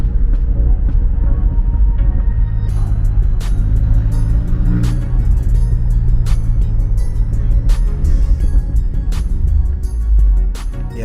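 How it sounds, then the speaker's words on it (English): A 750 hp BMW X6M with aftermarket downpipes rumbles loudly at close range, its deep exhaust drone holding steady with rising tones and scattered crackling pops from the burble. "And the factory burble is crazy after the downpipes."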